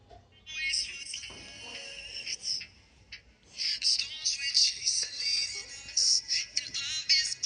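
Test audio plays through a Unix Bluetooth neckband as bright, high-pitched sound in two sustained stretches, broken by a short near-silent gap partway through, with no talking.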